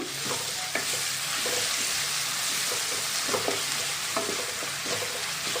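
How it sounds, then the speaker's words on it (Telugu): Ginger garlic paste frying in a hot pan with a steady, dense sizzle, broken by repeated scraping strokes of a spoon stirring it, close and continuous throughout. "ఒక స్పూన్ అల్లం వెల్లుల్లి పేస్ట్ వేస్తున్నానండి వేసి బాగా ఫ్రై చేసుకోవాలి కలుపుతూ"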